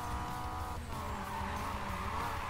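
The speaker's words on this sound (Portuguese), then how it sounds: "Ford contra Honda aqui no drift, vamos lá" Ford and Honda cars drifting in Need for Speed Payback, with a loud, steady engine roar and a sustained tire squeal running through the whole stretch, a brief dip midway.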